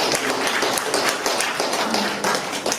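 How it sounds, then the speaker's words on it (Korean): At a business forum breakfast lecture, an audience applauds a speaker with a dense, sustained burst of many hands clapping, close and even throughout, with no voices over it. "박수 한번 큰 부탁 드립니다"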